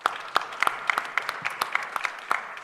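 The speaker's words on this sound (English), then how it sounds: "A round of applause for him" Scattered clapping from a small audience at a solar energy panel session, individual claps distinct and moderately close, thin rather than a full roar.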